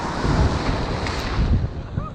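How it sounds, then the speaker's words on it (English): Ocean waves at Nha Trang beach wash and rumble continuously, heard up close with heavy wind buffeting the microphone. "So these are the waves out in Nha Trang, guys."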